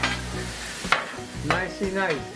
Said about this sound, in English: Get my onions sauteed up here.